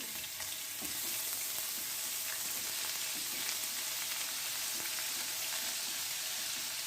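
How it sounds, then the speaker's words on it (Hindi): A steady, dense sizzle of garlic-ginger paste frying in hot oil for fish curry, continuous and close, with occasional soft stirring scrapes and no talking. "लहसुन अदरक के पेस्ट को हमने फ्राई करना है।"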